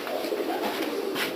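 An adult pigeon in a loft gives soft, throaty cooing, a continuous low murmur close by with faint rustling in the background.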